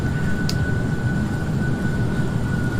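Airliner engines in a Boeing 737-900ER flight simulator game on approach to a high-altitude landing, a loud steady jet roar and hum droning throughout with no voices.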